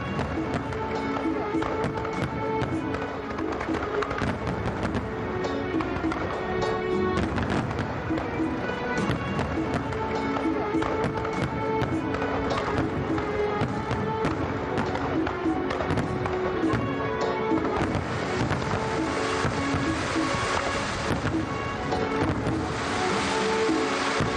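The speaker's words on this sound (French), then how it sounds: "La cérémonie s'est clôturée par un spectacle de feux d'artifice marquant l'événement" Fireworks burst continuously through a ceremony's closing display, a dense wall of crackles and booms with crowd noise mixed in throughout.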